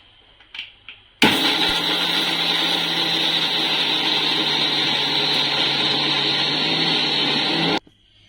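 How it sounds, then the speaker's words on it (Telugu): A mixer grinder coarsely grinds fresh coconut with salt, starting abruptly after a few faint knocks and running as a loud, steady whirring roar for about six seconds before cutting off sharply. "వీటిని ఒకసారి మిక్సీ వేసుకోవాలి. మరీ మెత్తగా కాకుండా కొంచెం గరుగ్గా ఉన్నట్టు వేసుకోవాలి."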